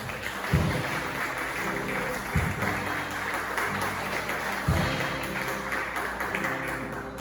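A church congregation applauds in a dense, continuous wash of clapping, with a few louder thumps over the top.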